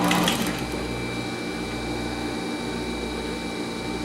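A sewing machine runs steadily while stitching bias binding onto a dress, a continuous close mechanical whir that stays even in level from start to finish with no talk.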